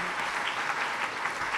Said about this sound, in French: je demande d'applaudir pour dire grandement merci